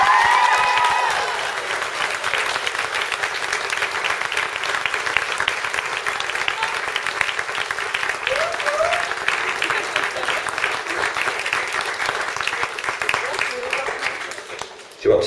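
Sustained audience applause fills an awards ceremony hall, a dense steady wash of clapping from many hands that carries on for about fifteen seconds before tapering off, with faint voices mixed in.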